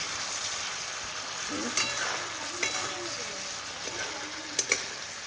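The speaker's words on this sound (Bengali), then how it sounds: "এই মাছ আমি রান্না করছি" Fish frying in a pan at home, a soft steady sizzle with a few sharp spatula clinks and stirring knocks, fairly quiet and close.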